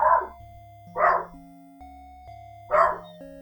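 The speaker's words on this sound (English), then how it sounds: "sorry for the dogs" A dog barks in three separate bursts about a second apart, loud and close indoors, with no one speaking over it.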